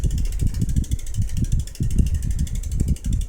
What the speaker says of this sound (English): you want to spin the tire a little bit. Make sure that it is spinning straight.